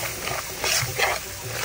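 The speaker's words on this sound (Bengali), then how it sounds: "ভালোভাবে নেড়ে নেব।" A spoon scrapes and stirs a thick spiced egg mixture with gram flour, chili powder and turmeric, in soft irregular strokes with a light wet texture.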